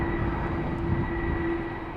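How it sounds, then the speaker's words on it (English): A KLM Airbus A330-300 airliner approaching at Schiphol Airport produces a steady, moderately distant jet roar with a sustained engine whine, even and continuous throughout. "another A330 is coming this way. That is from KLM, an A330-300"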